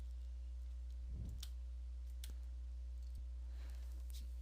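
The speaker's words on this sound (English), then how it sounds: "then I'm going to hit enter on the keyboard" A computer keyboard's Enter key is pressed during a Windows 10 repair at the command prompt, giving a few soft, faint clicks over steady background hum.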